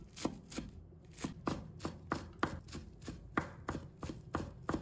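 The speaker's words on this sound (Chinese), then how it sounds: "把葱叶切成葱花" A knife chops scallion leaves on a cutting board in quick, evenly spaced thuds, about a dozen crisp strikes with a short pause near the start, close and quiet with no speech.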